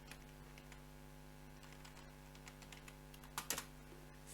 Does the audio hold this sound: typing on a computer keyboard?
yes